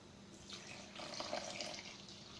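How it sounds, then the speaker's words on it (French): Milk is poured into M&M's cake batter, a faint, smooth liquid stream lasting about two seconds with no talking. "À présent, versez le lait."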